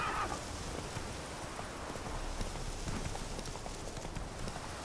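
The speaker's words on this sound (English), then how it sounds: "We've got some horses with no bandits on them." Horses clip-clop at a trot in The Witcher 3 Wild Hunt, a steady patter of hooves over a dense rain-like ambient wash, moderately loud and continuous with no talk.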